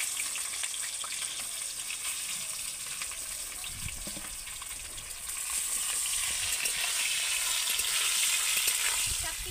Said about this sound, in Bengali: এবার আমি বেগুনগুলোকে ভেজে নেব।